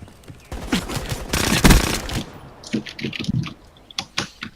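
Bursts of gunfire from a weapon in Call of Duty: Black Ops 3, a dense rattling volley followed by scattered sharp shots and impacts, loud and close with no talk.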